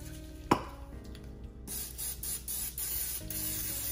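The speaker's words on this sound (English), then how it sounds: "Spray it with some Pam." A short spray of cooking spray onto a muffin tray hisses in two bursts after a light knock, close and fairly loud, with no voices.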